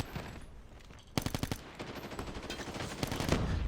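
Rapid automatic gunfire from Call of Duty Mobile, a mobile shooter game, with dense bursts of shots starting about a second in and continuing steadily, loud and close, with no talk.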